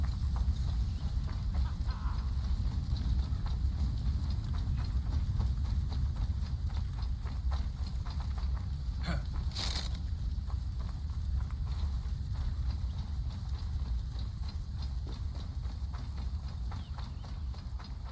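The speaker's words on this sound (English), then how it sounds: "A good horse!" Horse hooves clip-clopping in Assassin's Creed Valhalla, a steady rhythmic trot running the whole time under heavy low rumble and ambient game noise, with a brief brighter burst partway through.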